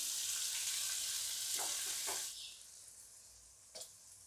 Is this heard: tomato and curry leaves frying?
yes